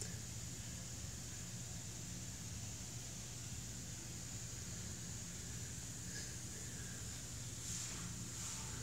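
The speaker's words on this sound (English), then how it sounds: "the wind is crazy. It's just blowing through like," Strong gusting wind blows across an outdoor hotel pool area at Caesar's Palace in Las Vegas during a windstorm, a steady broadband rush with microphone buffeting that holds at an even level throughout, with no voices.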